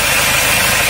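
A 2017 Kia Sportage diesel idles after repair work to its injectors, intake and DPF, giving a loud, steady, close rumble with even mechanical vibration and no voices.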